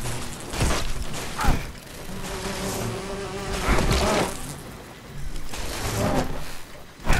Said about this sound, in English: Robot against a fucking bee?